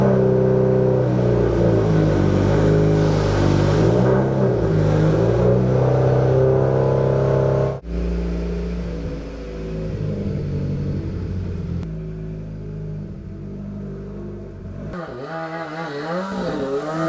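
A Mitsubishi Evo X engine drones loudly and close on a drive around the block, its pitch rising and falling as it accelerates, then easing to a lower rumble before cutting off near the end.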